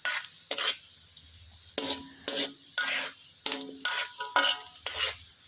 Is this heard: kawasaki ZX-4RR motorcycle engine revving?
no